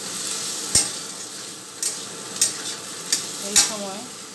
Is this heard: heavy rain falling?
no